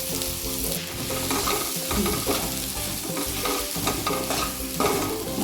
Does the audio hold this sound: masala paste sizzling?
yes